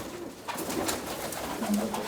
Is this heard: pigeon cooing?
yes